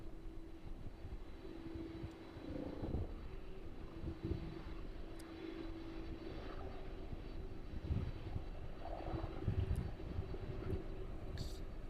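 Aircraft on landing approach to East Midlands Airport passing over Kegworth at about 900 feet, a low, steady engine drone with a faint tonal hum, distant and fairly quiet throughout.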